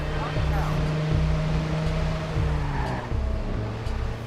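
A sluggish car in Watch Dogs driving on the PS4, a steady droning engine hum with road and tire noise, loud and continuous throughout with faint whooshing shifts.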